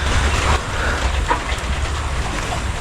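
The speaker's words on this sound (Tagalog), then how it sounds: "Paggabi pa maulan, pero mahina lang ambon-ambon." Light drizzle on a farm on an overcast morning, a steady soft hiss with low rumble underneath, continuous and fairly close with no voices.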